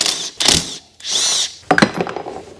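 A hand ratchet backs 8 mm bolts out of a cover on a CF Moto CForce 600 ATV, giving several short, close bursts of clicking separated by brief pauses.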